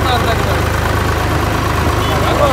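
A tractor engine running while towing a long trailer on a road, a steady loud low-pitched throbbing drone with regular pulses, alone without talk.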